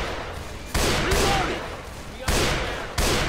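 Sniper rifle firing at a zombie in Left 4 Dead 2, four sharp, loud gunshots spaced unevenly about a second apart, each leaving a short decaying echo.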